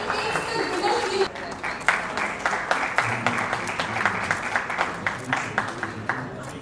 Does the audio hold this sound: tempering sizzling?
no